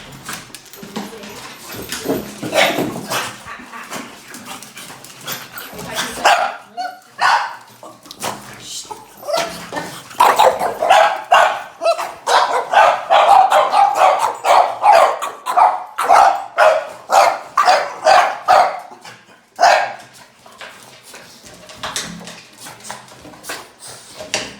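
French bulldogs bark excitedly in a rapid, uneven series of close, loud yaps and barks, with occasional whimpers and brief pauses between bursts.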